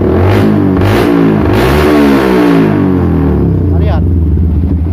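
A Yamaha New Vixion Advance motorcycle engine revs repeatedly nearby, rising and falling in several bursts with clattering mechanical tone, while someone talks over it.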